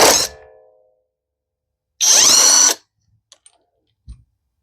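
A PROTMEX cordless 1/2-inch impact wrench zaps a lug nut loose in one loud, dense burst of just under a second, preceded by a brief clatter and followed by a few faint clicks and small knocks.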